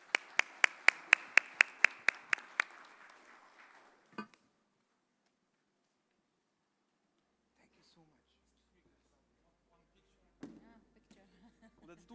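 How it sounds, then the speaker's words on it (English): At a Blockchain Dubai Summit and NFT show panel, a run of about nine sharp, evenly spaced claps rings out close and loud, then stops. One more faint knock follows, then near-silence, with only scattered soft sounds later. "please let's give our panel members a big round of applause"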